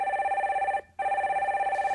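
Telephone bell ringing on a call-in stock-advice broadcast: two steady electronic ring bursts separated by a short gap, clear and close with no talking.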